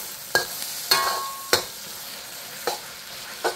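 Pad Thai noodles with chicken being stir-fried in a hot pan, a soft sizzle cut by five sharp clanks and scrapes of a utensil tossing them at irregular intervals, close up with no talking.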